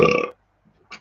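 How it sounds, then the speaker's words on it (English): One loud, close human burp that fades out quickly, followed by a brief soft sound near the end. "Excuse the burping."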